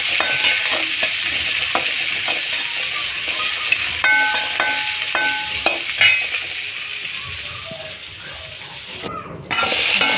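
Large sliced onions sauté in a pan with steady frying sizzle and occasional stirring scrapes for the whole stretch, loud and close, with no talking.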